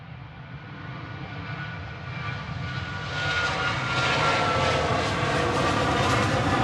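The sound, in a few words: Ryanair plane taking off at Manchester Airport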